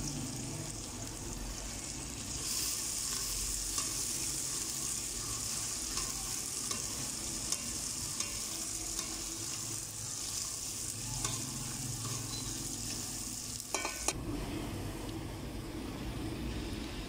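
Sliced onions fry in hot oil, a continuous close hiss and crackle of sizzling with occasional stirring scrapes, steady in level for the whole stretch with a brief clatter near the end.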